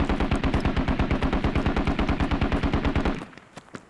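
Rapid, evenly spaced heavy shots fire in a steady stream in the military game Squad, loud and close for about three seconds before stopping abruptly, followed by a few faint distant thumps.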